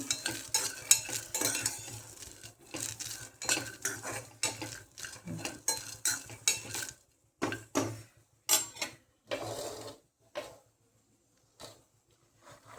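Mixed vegetables for a Bhogi dish, including chickpeas, roasting in a pan, with repeated scraping and clinking of a spoon against metal in bursts that thin out and pause toward the end, no voices.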